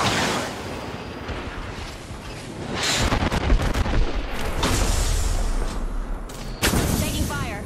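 Gunfire in the video game Apex Legends, dense bursts of shots and booming impacts swelling and fading over several seconds, loud and close, with game voice lines mixed in.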